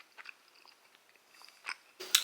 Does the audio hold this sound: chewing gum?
yes